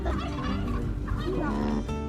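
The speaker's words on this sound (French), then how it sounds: "C'est dingue les dindons." Turkeys gobble in a busy, warbling chorus, close and continuous, with overlapping calls throughout.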